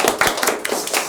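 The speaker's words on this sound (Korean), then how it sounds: "뭐 박수나 한번 칠까요?" Brief burst of hand clapping from a small group greeting each other at the start of a student mentoring talk session, several quick claps overlapping for about a second, fairly close and without talk.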